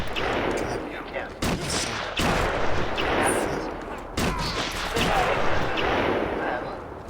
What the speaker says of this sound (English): Well, that's one fast sniper rifle.